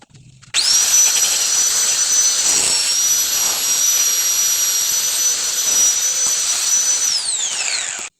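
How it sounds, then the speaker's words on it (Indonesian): An angle grinder whines up suddenly and holds a loud, steady high-pitched grind while smoothing excess repair material off a Yamaha Filano scooter body, then spins down at the end. "saya gerinda bagian-bagian yang berlebihan sini"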